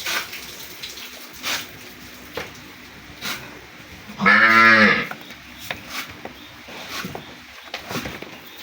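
A Friesian cow gives one loud, sustained moo lasting about a second, standing out from quiet farmyard background with faint rustles and scattered knocks before and after.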